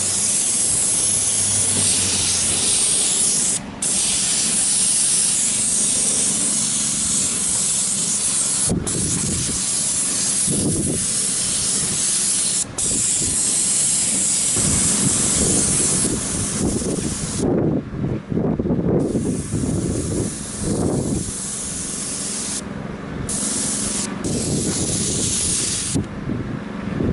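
A sprayer applies coating to a roof in Palm Beach, Florida, a continuous loud hiss running nearly unbroken with brief dips and shifting gusty texture, close to the nozzle.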